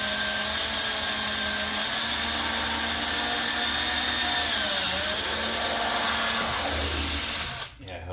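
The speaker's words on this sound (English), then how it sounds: "Helps when you drill a little slower." A power drill bores slowly through fiberglass during an engine install on a Hangar 9 Carbon Cub model aircraft, a loud steady whirring drone that winds down near the end.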